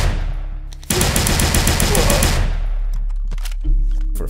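Rapid automatic gunfire from an M4 carbine and an Uzi in an indie Unity first-person shooter. A sustained burst of loud, close shots runs for about two seconds, then single shots trail off.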